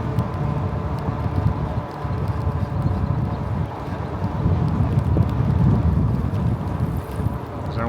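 Wind buffets the microphone while riding a bike along the Poudre River Trail in Fort Collins at about 17 miles per hour, a loud, continuous low rumble with gusty swells.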